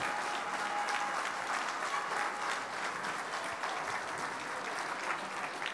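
An open-air crowd gives the German team a sustained round of applause during the opening ceremony of the 2019 World Aerobatic Championships in Châteauroux. The clapping stays dense and even throughout, with a faint steady tone beneath it.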